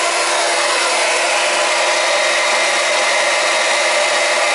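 A pump on a three-zone hydronic heating system filled with glycol runs with a constant, loud broadband whir and hiss that stays even throughout, alone with no talk.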